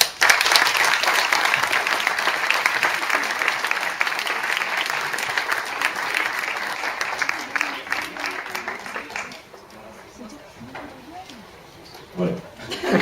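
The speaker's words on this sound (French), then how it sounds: "sous vos applaudissements, je vous propose de les accueillir" Audience applause welcoming members of a group onto the stage at a presentation, steady, dense clapping from a sizable crowd that holds for about nine seconds, then thins out into quieter room sound and a few voices.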